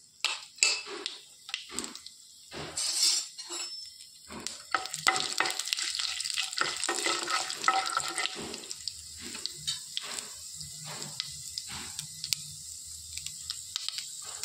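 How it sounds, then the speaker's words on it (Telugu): Tempering seeds and garlic crackle and sizzle in hot oil for potato fry, with a steady hiss and bursts of popping, plus scraping of a spoon stirring in the pan, close and fairly loud. "1 టేబుల్ స్పూను తాలింపు గింజలు వేసుకోవాలి."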